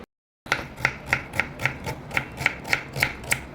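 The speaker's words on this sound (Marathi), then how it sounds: "अशा पद्धतीने आपण बारीक कांदे एकदम चिरून घ्यायचे सगळे।" Onions being chopped finely with a knife on a board, a steady run of about eleven crisp, evenly spaced chops, close and fairly loud, starting after a brief silence.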